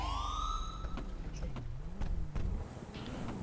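A police siren in a FiveM roleplay game wails in a rising and falling sweep. It plays through steady engine and background noise, with a few short knocks and bumps mixed in.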